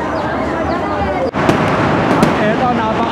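Loud fireworks explode continuously nearby, a dense crackling and booming wash with a few sharper bangs standing out.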